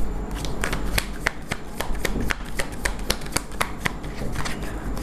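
Tarot cards being shuffled by hand, a steady series of crisp riffling snaps and flicks repeating roughly every third of a second, close and clear, with no talking.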